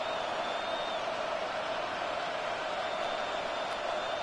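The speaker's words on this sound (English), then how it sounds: "The crowd making their presence felt." Stadium crowd noise from an American football video game forms a steady, faint roar of many voices that holds constant throughout, with no clear cheers or claps.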